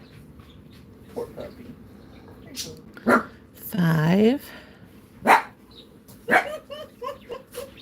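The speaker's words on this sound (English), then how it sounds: "We got puppies barking in the background" Puppies bark repeatedly in the background, a string of sharp separate barks and yips scattered across the stretch, while a woman counts aloud over them indoors.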